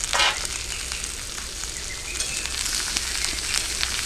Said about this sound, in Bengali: কেটে রাখা ঝিঙেগুলো দিয়ে দিলাম।